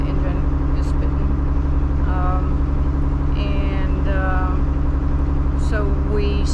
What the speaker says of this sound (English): the engine is spitting